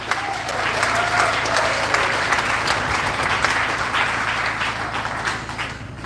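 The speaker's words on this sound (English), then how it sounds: "Can we have a round of applause" A crowd at an outdoor freedom festival in Preston applauds steadily for several seconds, a dense, even clatter of many hands with a low hum underneath.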